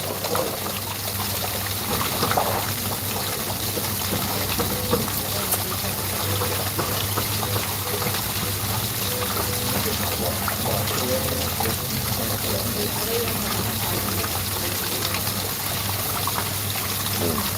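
Steady, continuous splashing and rushing of water pouring from a hot tub waterfall, close and fairly loud throughout, with faint background voices underneath.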